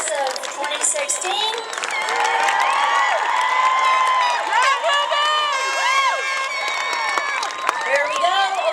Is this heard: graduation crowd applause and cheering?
yes